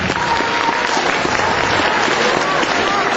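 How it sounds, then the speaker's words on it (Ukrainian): An audience at a first-of-September school ceremony gives loud, even applause that fills the whole moment, with no pause or fade. "Ваші оплески."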